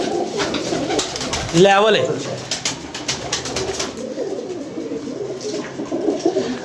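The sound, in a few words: pigeons cooing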